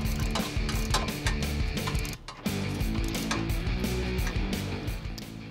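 A ratchet wrench and socket loosen the bumper bolts on a 2007-2018 Jeep Wrangler JK fitted with a DV8 FS-15 hammer forged stubby front bumper. Fast, loud, close clicking runs steadily, with one brief pause partway through.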